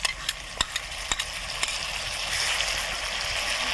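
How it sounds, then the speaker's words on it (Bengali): Garlic fries in a pan with chopped onion and whole spices, a continuous sizzle with a few sharp clicks of a utensil stirring near the start. "এখন আমি রসুনটা ভাজবো।"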